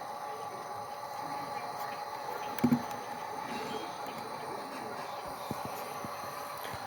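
A small HO scale model train runs steadily with a soft continuous rumble and faint clicking, with a brief louder clack near the middle.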